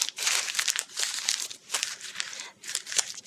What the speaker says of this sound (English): have the students stand up with the probe in their hand and crumple it into a ball